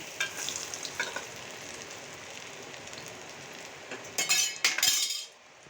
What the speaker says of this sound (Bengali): এখানে আমি 3টা ডিম চপ দিয়েছি ভাজার জন্য।